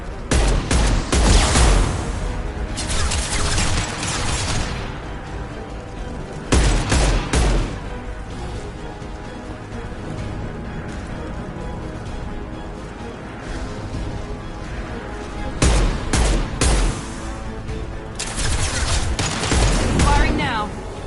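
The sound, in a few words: gunfire in the video game Mass Effect 2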